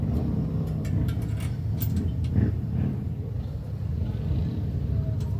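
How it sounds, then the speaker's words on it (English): A steady low engine rumble with faint thumping pulses, distant and continuous, with no voices. "I think that sounds like a motorcycle to me."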